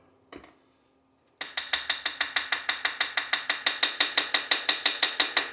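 A steel can being tapped to settle its packed contents before a forge weld gives a steady run of about twenty-five sharp, bright metallic taps in even rhythm, close and loud, after a single knock and a short pause.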